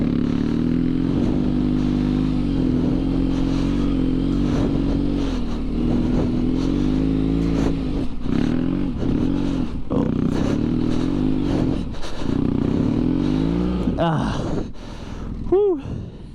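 A BMW F800GS motorcycle on studded tires rides an icy, snow-covered road, its engine droning steadily up close with revs rising and falling, wind buffeting, and brief breathy vocal sounds near the end.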